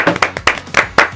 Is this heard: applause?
yes